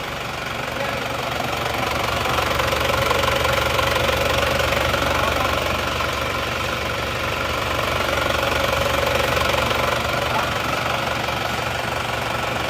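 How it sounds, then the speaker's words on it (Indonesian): A freshly rebuilt Isuzu Panther diesel engine runs steadily at idle, a close, loud, even knocking clatter with constant vibration throughout and no voices. "Pamer lagi mesin yang baru hidup hari ini"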